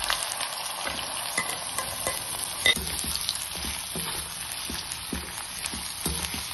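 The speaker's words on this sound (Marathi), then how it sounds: "आता हे सुद्धा मी या तेलामध्ये तळून घेत आहे।" Thinly sliced ivy gourd frying in oil, a steady, close sizzle with crackling and occasional stirring scrapes running throughout.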